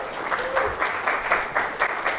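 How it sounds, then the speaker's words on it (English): Audience applause welcoming two speakers onto the stage at a Magento e-commerce conference in New York, a steady, dense clapping that swells in rhythmic bursts and carries on alone for a couple of seconds. "So give a warm welcome, round of applause for Maier and Tim."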